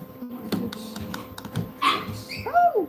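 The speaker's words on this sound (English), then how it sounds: "my dogs are just making a noise at the door" Excited dogs make noise at a door in a home, with scattered scratching and thumping, a few short yips and a rising whine near the end, all fairly close and without talk.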